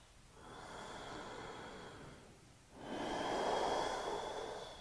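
Slow, deep breaths from a yoga instructor holding downward facing dog, one long inhale followed by a fuller, louder exhale, close and airy in a quiet room.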